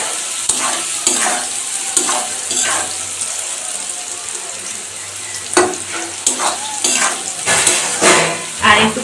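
Lettuce sabji cooked Bengali style with potato, stirred and fried in a pan: continuous loud sizzling with repeated scraping strokes of a spoon against the pan, close and steady throughout.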